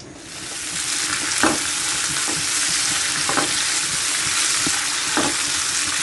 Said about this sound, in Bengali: এখানে পেঁয়াজ এবং রসুন কুচি তেলে ভেজে নিচ্ছি।